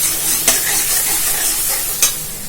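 Masala spices with kasuri methi sizzle and fry in a pan, with a steady close hiss and two brief scraping stirs.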